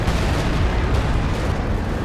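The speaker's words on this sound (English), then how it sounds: "Gets direct hit, detonates his own landmine as well" Heavy explosive blasts from a Company of Heroes 2 battle as direct fire strikes and a landmine detonates, a loud continuous rumble of booms with no talk over it.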